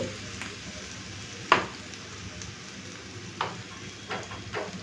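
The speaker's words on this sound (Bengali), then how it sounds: "মশলাটাকে দু চার মিনিট এভাবে ভেজে নিয়েছি" Spice paste sizzles steadily in a hot pan for a potato, soybean and egg curry, with a continuous frying hiss and a few sharper stirring scrapes standing out.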